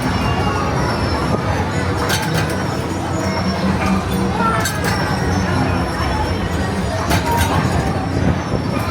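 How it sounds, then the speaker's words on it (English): Train rolling past at the South Dakota State Fair in Huron, a steady loud rumble with wheel squeals and rattles, close by, with crowd chatter and voices around it. "I'm in the way of the train"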